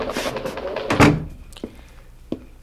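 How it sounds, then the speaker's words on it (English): A door shut as a radio drama sound effect in a daily newspaper office, heard as a single loud, close thunk with a few lighter knocks after it. "Come in and shut that door."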